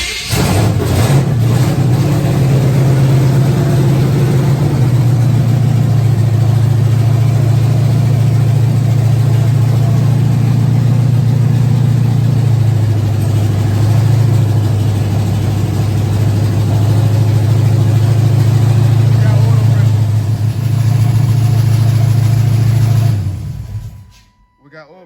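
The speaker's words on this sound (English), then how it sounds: "Ignition on, firing up." A car engine being brought back to life after a fire catches and settles into a steady, loud low idle that runs for over twenty seconds before cutting off near the end.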